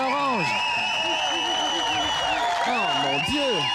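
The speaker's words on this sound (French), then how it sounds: "On les applaudit" An audience applauds and cheers a band on a 2001 MusiquePlus television show. Dense, steady clapping fills the clip, with whoops and shouting voices rising above it throughout.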